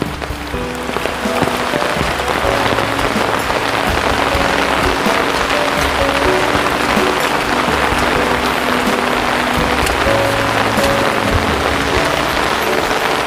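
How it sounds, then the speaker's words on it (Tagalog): Heavy rain pours steadily in a forest, a dense continuous hiss of drops drumming on surfaces, loud and close throughout with no break. "Saka lumakas yung ulan, lalo. Lumakas yung ulan."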